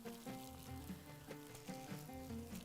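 Potatoes hit a pan of frying onions for Bahraini machboos, giving a soft, steady sizzle with faint stirring clatter, fairly quiet and close, no voices.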